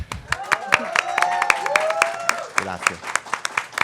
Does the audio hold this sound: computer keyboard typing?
no